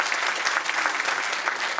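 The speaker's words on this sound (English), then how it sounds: "So give yourselves a round of applause." An audience at a presentation claps steadily, a dense, even wash of applause throughout with no voices standing out.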